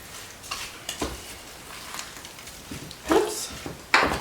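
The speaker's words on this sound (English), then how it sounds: "Gonna stir this broccoli now into the rest of this mixture." Broccoli being stirred into a casserole mixture in a home kitchen while prepping holiday dishes, with soft scraping and clattering strokes spaced irregularly and two sharper clinks near the end.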